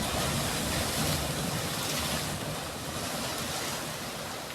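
Sea surf surging between rocks along the rock garden shore at Malvan beach, a continuous loud broadband wash of waves with wind buffeting the microphone and no voices.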